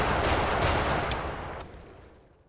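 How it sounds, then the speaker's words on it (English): Gun firing in a VR shooter game, a dense burst of loud rapid shots merging into a continuous roar that fades away over the last second, with no voices. "you can shoot with the trigger button."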